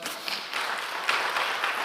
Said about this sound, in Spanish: Le damos un aplauso nuevamente, ¿verdad?